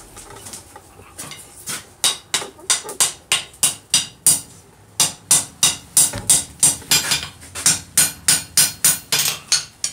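Heated ball screw steel is forged with a hammer on an anvil, giving a long run of loud, evenly paced ringing blows, about two to three per second with brief pauses, close to the listener.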